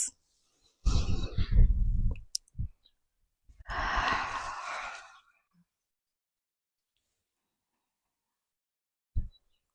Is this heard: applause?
no